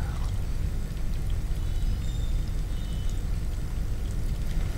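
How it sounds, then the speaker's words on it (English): Tons of water churning inside three metal tanks in a shop in the video game Kentucky Route Zero, a dense, steady rushing and gurgling wash that stays constant and fairly loud with no pauses. "The left wall is lined with the churning tons of water."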